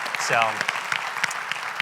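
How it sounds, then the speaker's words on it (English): Brief audience applause for a panel at a community forum, a light scattering of claps heard behind and after a voice speaking over them. "Just a round of applause for our panel here."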